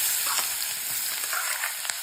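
Onion sizzles and crackles steadily in hot oil with mustard seeds and asafoetida, a dense, close frying hiss with small pops throughout and no voices.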